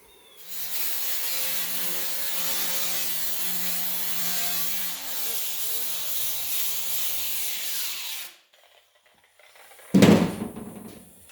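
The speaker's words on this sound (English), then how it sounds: "I'll just continue grinding this here until it's all like this here" A grinder working across the rusty door panel of a 1948-54 Chevy truck, a loud harsh whine with wavering pitch that cuts out abruptly, then a short clunk after a moment of quiet.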